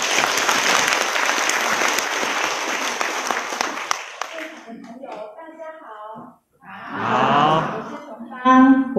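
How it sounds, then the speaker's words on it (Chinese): A crowd at an indoor gratitude sharing event breaks into loud, dense applause for about four seconds, which then thins and fades; a voice speaks over amplified music afterward. "让我们呢再度用掌声来谢谢刚刚如林呢动人的分享"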